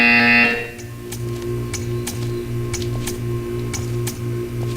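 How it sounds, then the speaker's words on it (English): A buzzer in the video game Portal 2 sounds in an Aperture Science test chamber: a short loud electronic burst, then a steady low repeating hum with faint regular ticking clicks. "When you hear the buzzer, stare at the art"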